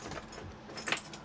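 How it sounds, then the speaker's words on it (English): A car key jangles faintly on its ring in a brief metallic rattle as it is twisted in a stuck ignition of a vintage project car. "I tried repeatedly to get the key to turn, but it was stuck."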